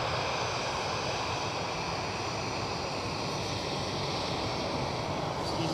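An EasyJet airliner departing Edinburgh Airport for Geneva gives a steady, broad jet engine roar that stays loud and constant throughout, with no voices.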